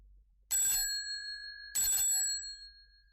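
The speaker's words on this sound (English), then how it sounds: "Then suddenly she ran across the road and rang Holmes's doorbell." A bright bell rings twice, each clear metallic strike lingering with a ringing tail before fading, separated by about a second of silence.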